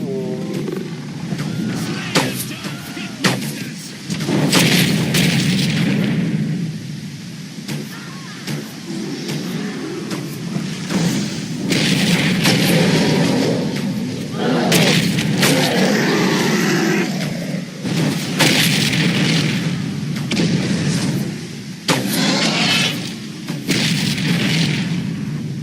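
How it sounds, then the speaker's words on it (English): Fire-spraying siege machine attacking on a battlefield in the Lord of the Rings Conquest video game, heard as a loud, continuous roaring rumble with repeated booming bursts and surges throughout. "Huge machine sprays fire upon the field!"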